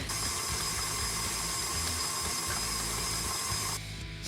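An electric mixer beats softened butter with monk fruit sweetener in a steady, close whirring drone that holds even for about four seconds before cutting off abruptly.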